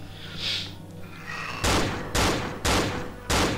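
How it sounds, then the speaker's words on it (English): Gunfire from an enemy in the horror video game Cry of Fear: after a quiet stretch with faint game ambience, four heavy, loud bursts of shots arrive at roughly half-second intervals. "Look, it's him shooting at you."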